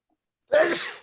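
A single, loud, close sneeze bursts out of silence and then trails off quickly.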